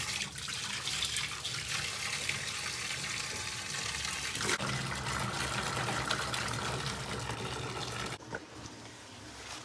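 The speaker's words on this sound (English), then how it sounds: "We're gonna turn on the hot water." Hot water pours steadily from a kitchen sink tap, a continuous close rushing hiss that holds for the whole stretch and eases slightly near the end, with no one talking.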